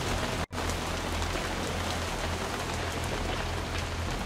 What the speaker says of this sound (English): When will this bloody rain stop?